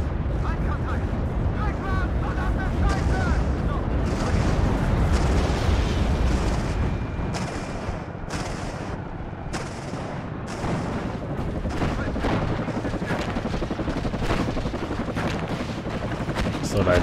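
Heavy anti-tank gun fire and explosions in the Cold War strategy game WARNO: repeated booming blasts and rumbling impacts mixed with scattered gunfire, continuous and loud throughout, with someone talking over the battle.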